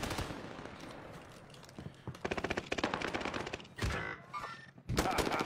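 Rapid bursts of video game machine-gun fire rattle through the whole stretch, with brief pauses and sharper single reports near the end. A faint voice sits in the background.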